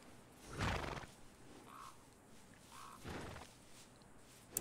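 A horse whinnies in Red Dead Redemption, two breathy neighing bursts about two seconds apart, faint and alone with no talk.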